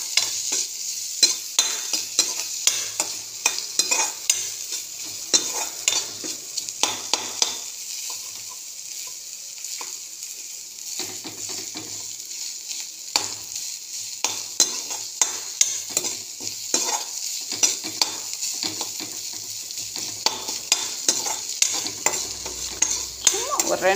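Masala is sautéed in a pan for a crab rasam, a low sizzle running beneath many quick, repeated scrapes and taps of a spoon stirring against the pan, close and unbroken, with no one talking.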